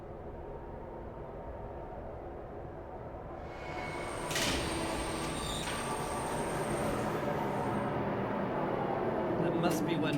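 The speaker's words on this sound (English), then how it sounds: "There's the tram I saw." A tram in the video game Riven Remastered rumbles along on rails with a steady low roar that grows brighter midway, a faint squeal riding on top as it keeps moving.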